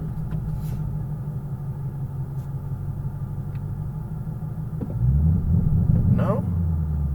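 A 2020 Shelby GT500 idles with a deep, close engine rumble that swells louder as the driver engages launch control, with brief talk in the cabin over the steady drone.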